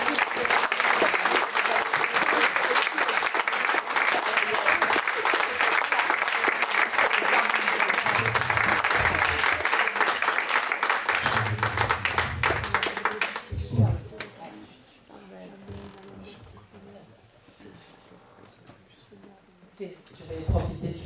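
A church congregation applauds loudly and steadily for about thirteen seconds, the clapping dense and sustained before it drops off abruptly into quieter room sound with a voice speaking.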